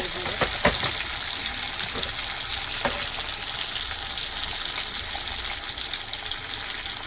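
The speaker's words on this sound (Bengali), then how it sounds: "পেঁয়াজ ভাজা হয়ে গেছে, এবার টমেটো কুচি তুলে দিচ্ছি।" Chopped tomatoes hit hot fried onions in a pan, giving a loud steady sizzle with a few sharp clatters near the start, continuous and without voices.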